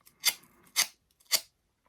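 The back of a scissor blade is drawn along a paper flower petal to curl it, three crisp rasping strokes at an even pace, close and quiet with no talking.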